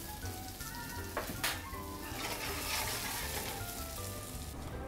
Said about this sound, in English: Frying them in the butter, a little bit of oil just makes the outside go so crispy